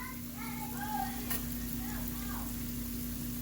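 Garlic dropped into a pan with already softened onion, frying with a steady sizzle throughout while faint tonal kitchen hum and a brief clatter sit beneath it.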